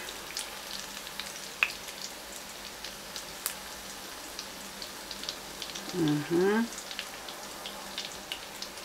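Shrimp and smoked fish balls frying in oil, a faint crackling sizzle with scattered pops throughout and a brief tonal scrape or clatter near the end.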